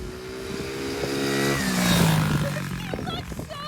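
A pit bike engine revs in a snowstorm in Canada, a close buzzing rumble that climbs then drops away, mixed with clattering and a voice exclaiming near the end.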